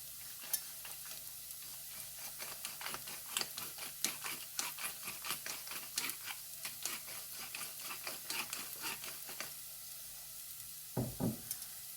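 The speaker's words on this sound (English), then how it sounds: "So our onions sautéed off nicely. In goes the rice, and a bit of pepper." Risotto rice is stirred and toasted in a pan with sautéed onions and a little pepper, a steady sizzle broken by repeated scraping stir strokes, with a louder clatter near the end.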